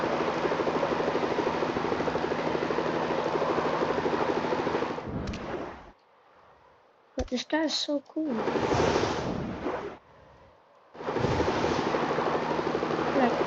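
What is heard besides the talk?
Terra Spin attack in Ben 10 Galvan video game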